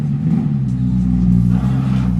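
A Nissan GT-R rolls out of a garage with a steady, loud low engine rumble and a faint rise in revs, heard close by and without talk.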